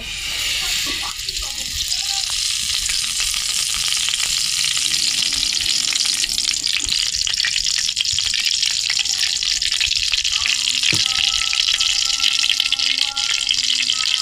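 Oil heats in a kadai for a Bengali cheli fish curry, giving a steady, close sizzling hiss that fills the whole stretch, with faint clatter and a voice now and then.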